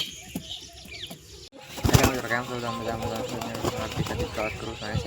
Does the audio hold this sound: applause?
no